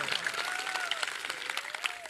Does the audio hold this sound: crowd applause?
yes